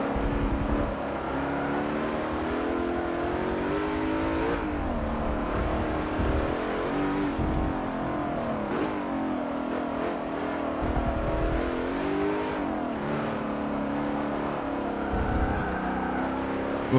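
A race car engine in the Forza Motorsport 7 video game drones and revs continuously, rising and falling through gear changes with a steady loud whine, and no talking over it.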